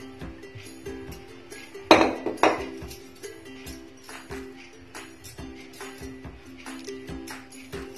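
A pressure cooker is set down on a stove, making two sharp metallic clanks close by, followed by softer, scattered clinks of cookware.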